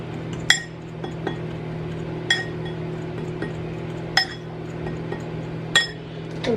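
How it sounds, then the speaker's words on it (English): A utensil stirring a cinnamon mixture, clinking sharply against the bowl about every second or so, close and clear over a low steady hum. "Quick little stir here."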